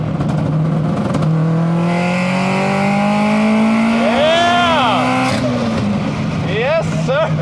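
A tuned Subaru GC8 Impreza with large injectors accelerating hard in third gear on the street, its engine note climbing steadily and loudly from inside the car, with a brief gear change partway through.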